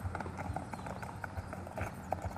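A Mangalarga horse walks at a horse fair in Abreu e Lima, its hooves giving a regular, moderately close clip-clop over low crowd murmur and background noise.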